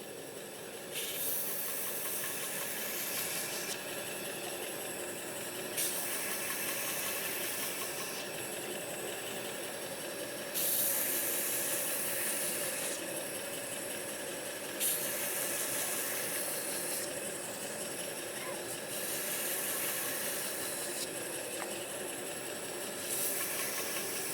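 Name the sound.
belt grinder removing scale from forged blade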